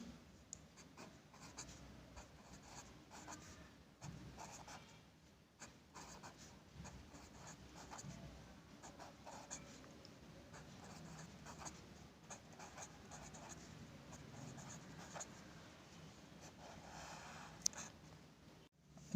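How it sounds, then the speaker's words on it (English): A pen scratches steadily across paper while a matrix adjoint is written out by hand for an inverse-matrix problem, a soft, continuous scribbling close to the mic with short pauses between strokes. "I am going to write the adjoint directly here."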